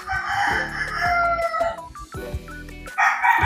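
A rooster crows nearby, two loud drawn-out cock-a-doodle-doo calls in quick succession, with no one talking.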